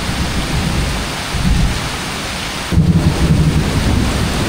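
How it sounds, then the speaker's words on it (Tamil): Heavy rain pours steadily in the Amazon rainforest of Brazil while loud thunder rumbles through it, the roar swelling midway into a deeper crash, with no voices. "இடி சும்மா அடிச்சுக்கிட்டே இருக்குது."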